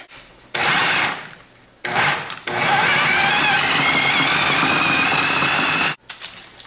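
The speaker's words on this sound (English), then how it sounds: "you're just going to stick everything in your food processor" Food processor blending a no-bake healthy fudge mixture, loud whirring motor in short bursts followed by one long sustained run that cuts off abruptly, with no speech.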